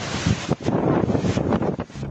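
Strong wind buffets the microphone in a steady, loud roar during a rainstorm in Quezon City, with gusty surges and brief dips throughout.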